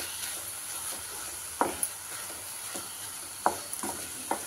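Garlic, cumin, tamarind, salt and turmeric are stirred in a pan with a soft steady sizzle, punctuated by a few sharp scraping clinks of the spoon against the pan.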